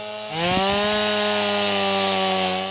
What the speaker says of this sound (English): The chainsaws, rakes, and clippers are all warmed up.